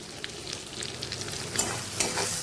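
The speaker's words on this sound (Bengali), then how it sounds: "পেঁয়াজটা মোটামুটি একটু ভাজা ভাজা হয়েছে" Onions frying in a pan, a continuous close hiss of sizzling oil with light crackles and a couple of brief stirring clatters, no voices.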